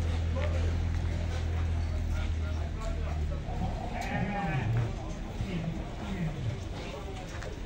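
Goats bleat at a livestock exhibition in a showground, several rising calls standing out near and loud over constant crowd murmur and background voices.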